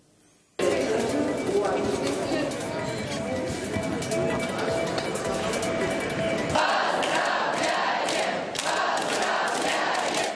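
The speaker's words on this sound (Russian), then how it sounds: "группы поддержки не перестают аплодировать" Supporters in Tatarstan welcome home returning young athletes with a loud crowd roar of cheering and clapping, a shouting mass of voices throughout, with dense applause taking over in the second half.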